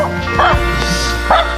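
Dogs barking during a mountain hike, several sharp, close, loud barks and yips in quick succession, with a brief whimper between them and no clear speech.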